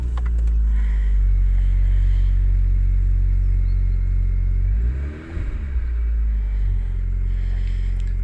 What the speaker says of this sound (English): Start the engine for the last time.